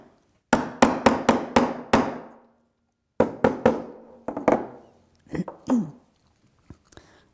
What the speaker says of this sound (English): put it in the back of the rivet and hammer to fix.